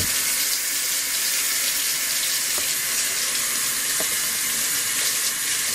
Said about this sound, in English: We gotta wash our hands before we start cooking